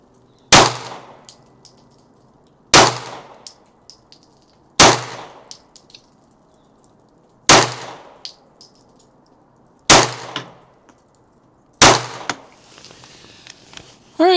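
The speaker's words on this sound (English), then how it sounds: "MagTech 124 grain. It's probably the ammunition I prefer the most if I can find it cheap enough. But we're going to see how it does with a 5-shot group." Five loud, sharp gunshots from a Daniel Defense H9 pistol firing MagTech 124 grain rounds at an outdoor range, evenly spaced about two seconds apart, each with a ringing metallic tail, with a sixth report beginning at the very end.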